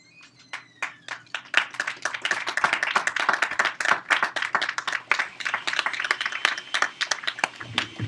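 A comedy club audience at Kaya bursts into sustained applause after a stand-up set, dense clapping that starts scattered, swells quickly and holds steady and lively for several seconds, with a few faint voices mixed in.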